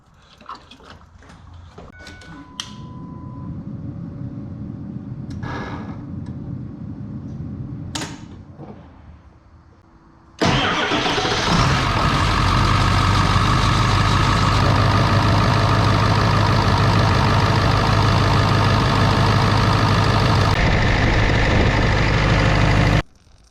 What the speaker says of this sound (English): Fire the truck up, check for leaks.